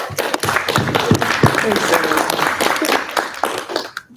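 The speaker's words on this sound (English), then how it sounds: "So give yourselves a round of applause." Student senate audience applauding together, a dense, steady patter of many hands that carries for about four seconds before dropping off abruptly.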